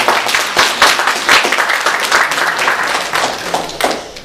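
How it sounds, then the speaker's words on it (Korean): A church congregation at a Sunday worship service applauds to congratulate members on their birthdays. The clapping is loud and dense, many hands together, continuing steadily throughout without a break. "박수로 축하드리겠습니다"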